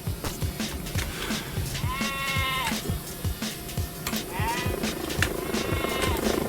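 Sheep bleating in a video game, two drawn-out wavering bleats heard over busy game sound effects and rumbling background noise.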